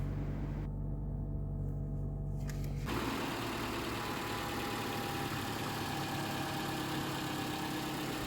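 A car engine idles steadily, a dense continuous hum with no voices.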